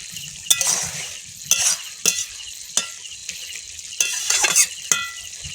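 Coarse sugar fries in a pan, a sizzling hiss punctuated by sharp utensil scrapes and clinks at irregular intervals, close and moderately loud, with no speech.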